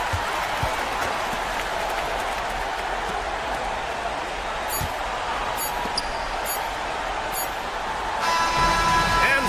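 Home crowd at a basketball game cheering and applauding after a win, a dense continuous roar of clapping and voices with a few sharp squeaks and bangs, loud and filling the space.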